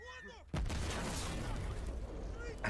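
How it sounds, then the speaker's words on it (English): Mortar fire in an Escape from Tarkov live action film, a sudden heavy boom followed by a dense rumbling roar of blasts and gunfire that fills the rest of the clip, with faint talk before it. "Oh, that's a mortar."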